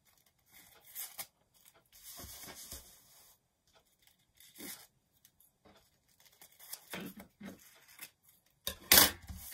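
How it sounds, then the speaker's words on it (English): Scissors snip through the corners of tissue paper, giving a few scattered crisp cuts and rustles with pauses between them and one louder, sharper crinkle near the end, close by and fairly quiet. "What I'll do is take the scissors, cut the corners"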